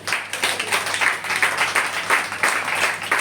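A church congregation applauds to acclaim Jesus with steady, lively clapping from many hands in a reverberant hall, continuous throughout and without voices on top.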